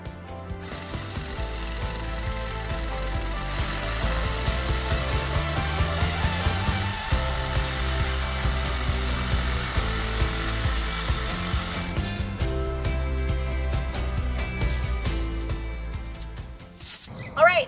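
A Ryobi reciprocating saw cuts through a small tree trunk outdoors, its blade rasping and ratcheting in a steady, loud rhythm for most of the time, close by and with no talk.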